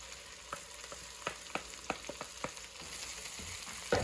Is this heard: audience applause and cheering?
no